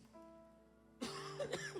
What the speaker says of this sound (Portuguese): eu estou tossindo porque é um restinho de uma gripe que ficou aqui